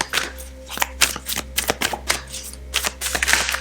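A Yogic Path oracle card deck is shuffled by hand, close up, as a run of crisp riffling bursts and soft slaps in uneven rhythm, with no one speaking.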